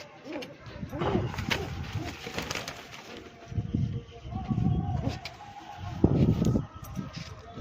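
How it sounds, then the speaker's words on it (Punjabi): Low, soft cooing from pigeons repeats in short swells close by, with other bird calls and some voices in the background. "ਬਹੁਤ ਮਿੱਠਾ ਕਬੂਤਰ ਹੈ"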